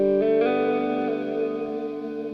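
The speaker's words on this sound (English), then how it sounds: "the guitar sound you're hearing" An electric guitar played through a volume pedal and effects rings out in a sustained, swelling note that thickens and then slowly fades with echo and reverb, close and fairly loud, with no voices.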